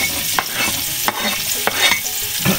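Pork bistek being sautéed with white onion in a pan, a steady sizzle with repeated stirring scrapes at a close, even level.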